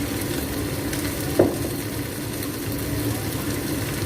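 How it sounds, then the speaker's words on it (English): Kway teow noodles fry in red oil with black pepper in a pan, giving a steady close sizzle and one brief scrape of stirring. "Now we stir it again."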